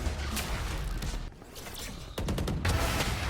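Pistol gunfire in a Valorant pro match at Champions Tour 2024 Masters Shanghai, heard as loud, close bursts of rapid shots separated by brief lulls, with no talk over it.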